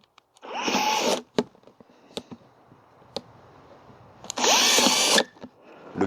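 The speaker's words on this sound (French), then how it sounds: "Ensuite, on fait 2 trous ici en plus." A power drill bores two holes into a plastic self-watering planter bucket, two loud whirring bursts about a second each at the start and near the end, with quiet handling clicks between them.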